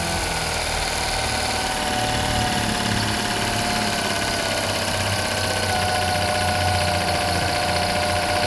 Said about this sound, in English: As you can see, it's idling pretty high.